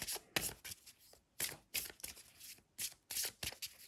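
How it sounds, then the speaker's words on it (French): A deck of Lenormand oracle cards is shuffled by hand, producing quick, crisp riffling bursts in an uneven rhythm. The shuffling is heard up close and quietly, with no talking. "On bat les cartes jusqu'à temps qu'on sente que les cartes n'ont plus envie d'être battues"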